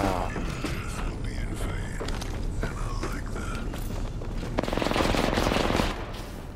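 Gunfire in the video game Apex Legends during a Caustic train event match, rapid automatic bursts and single shots mixed with footsteps and mechanical clicks, with players talking over it.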